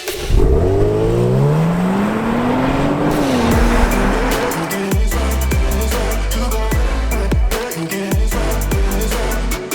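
A 2020 Genesis G70 3.3T twin-turbo AWD accelerates hard with a rising engine note through the gears, then a series of sharp gearshift cracks and revs as it drives on, loud and close.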